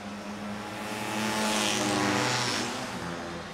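Vintage 1960s and 1970s Vespa scooters race around a track, a buzzing engine swell building and peaking mid-pass before fading, loud against a continuous background drone.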